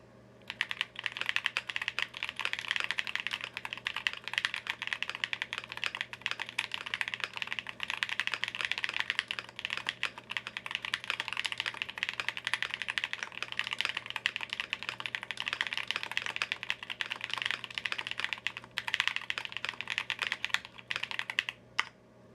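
Steady, continuous typing on a custom mechanical keyboard, a Pixelspace Capsule 65 built with an FR4 plate and Durock POM switches; dense, even keystrokes close up with no talking.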